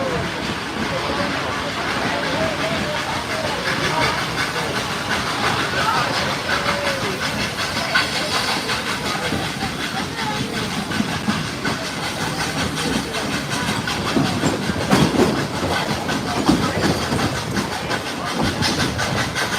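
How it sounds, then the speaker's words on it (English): The Dollywood Express, a passenger train pulled by a steam locomotive, rolls along steadily, a continuous hiss and rumble with faint clicking of wheels over the track heard from aboard, with people talking intermittently throughout. "continue running behind Tennessee's first steam locomotive"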